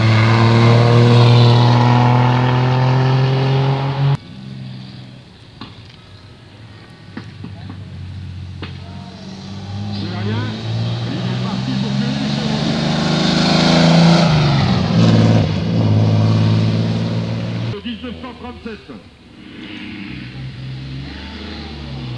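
The engine of a 1932 vintage car with a long motor climbs a historic hill in the Vosges, a loud droning note that shifts pitch through gear changes and passes by, while a commentator talks over it.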